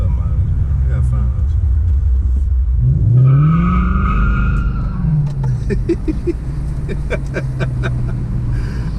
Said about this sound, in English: See if we can get it a donut or something out of it.